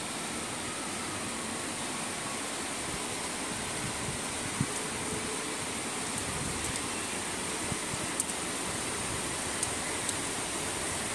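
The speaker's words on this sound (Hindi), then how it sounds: "कैमरे में इतना नज़र नहीं आता है पर काफ़ी तेज बारिश थी" Steady, dense hiss of heavy rainfall, constant and enveloping, with occasional faint drips or taps standing out.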